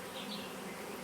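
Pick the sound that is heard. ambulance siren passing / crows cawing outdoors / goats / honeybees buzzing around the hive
honeybees buzzing around the hive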